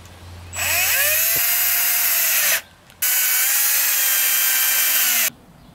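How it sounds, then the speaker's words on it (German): A power drill drives a screw into a honeycomb module of a beehive super in two sustained whirring runs with a short pause between them. The motor's pitch shifts as the screw takes up the load. "Wenn sie das ist, nehmen wir die Bohrmaschine"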